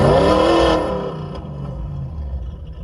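A car engine sound from the RevHeadz app revs hard at full throttle, loud and close, then drops away to a lower, steadier drone.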